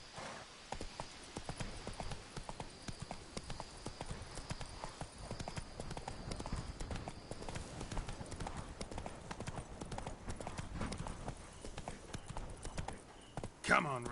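Roach, Geralt's horse in The Witcher 3, galloping in quick, steady clip-clop hoofbeats close by, with game sounds in the background and speech over the hoofbeats.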